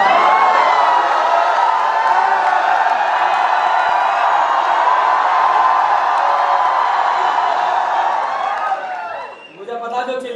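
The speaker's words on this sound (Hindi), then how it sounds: "अब चिल्ला रहे थे ऐसे तो चिल्लाओ," A live comedy audience at a stand-up show shouts and cheers in a loud, steady roar of many voices that fades slightly just before the end.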